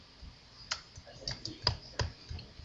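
Computer keyboard keys pressed while working in Finale 2009 music notation software, a few sharp separate clicks spaced over a couple of seconds, close and fairly quiet.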